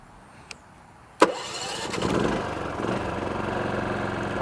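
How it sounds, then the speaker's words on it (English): A WEN DF400i 4000-watt dual-fuel inverter generator running on propane gives a click, then a sharp pull-start burst, and settles into a steady, moderately loud engine drone. The engine noise is close and continuous, with no talk. "you got the WEN 4000 running on propane"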